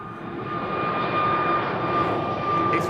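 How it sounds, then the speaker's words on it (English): An Airbus A321neo jet at Schiphol Airport drones steadily nearby, a loud broad engine roar with a thin high whine running through it across a few seconds. "A321neo."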